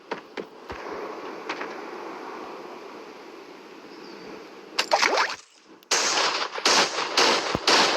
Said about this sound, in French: C'est une sorte de fusil à pompe, de mitraillette.